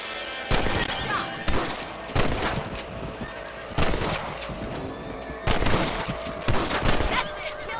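Rifle shots crack out in a video game in sharp, spaced bursts of about ten reports, loud and close, with horse whinnies and game ambience between them.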